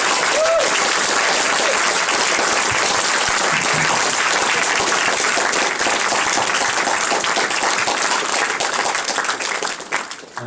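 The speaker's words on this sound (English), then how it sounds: "Give him a round of applause." A loud, dense round of applause fills a room at a game jam session during a developer conference, holding steady for about ten seconds before tapering slightly at the end.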